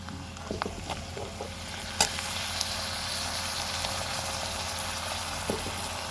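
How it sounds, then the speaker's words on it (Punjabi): Onion and tomatoes fry in a pan for baingan bharta, a soft steady sizzle with a few sharp stirring taps and clinks, heard up close and with no talking. "ਲਓ ਆਪਣਾ ਗੰਡਾ ਭੁੱਜ ਗਿਆ ਤੇ ਹੁਣ ਆਪਾਂ ਟਮਾਟਰ ਪਾਵਾਂਗੇ"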